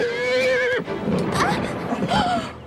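A horse lets out a loud, close, wavering neigh with an animated-series sound, followed by shorter whinnying bursts, while people speak around it.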